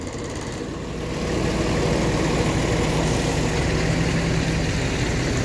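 A Golden Dragon bus engine idles with a steady, dense low rumble and hiss that swells slightly after the first second and then holds constant, heard alone without talk.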